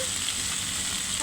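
Coriander powder and cumin fry in a pan with chili, giving a steady, close, even sizzle with no break across the short moment.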